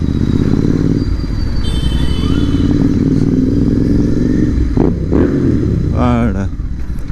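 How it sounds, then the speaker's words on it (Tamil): A fully modified GT650 motorcycle, a 2024 model, runs loud with a deep rumbling exhaust and clattering revs on a road, while voices talk over it near the end. "அந்தளவுக்கு வண்டி சவுண்டு செம்மையாக இருக்குது கைஸ்"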